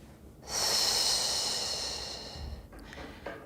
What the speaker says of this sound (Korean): 들이마시고 내쉬고